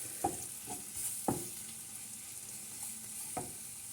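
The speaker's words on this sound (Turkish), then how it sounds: "Ve unla beraber de güzelce bir dakikanın altında kavuruyorum." Flour being dry-roasted and stirred in a pan for a Turkish milk-and-pepper breakfast dish, heard as a soft continuous sizzle with a few sharp scraping clinks of the spoon against the pan, fairly close and without voices.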